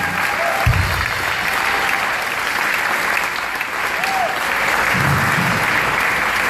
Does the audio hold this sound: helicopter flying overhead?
no